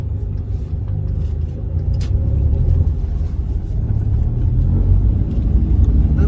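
A manual Hyundai i10 climbs uphill, its engine giving a loud, close, continuous low rumble that swells slightly partway through, with no talking.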